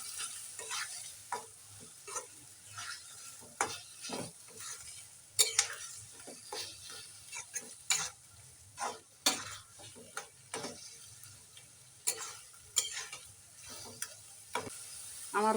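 Banana flower fry being stirred in a pan, with a spoon scraping and tapping the metal in an irregular rhythm over a steady, soft sizzle of frying, close and fairly quiet throughout.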